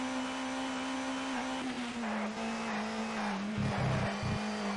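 Peugeot touring car engine in TOCA 2 Touring Cars held flat out uphill, a steady, sustained drone with a constant pitch and a brief rougher patch near the end.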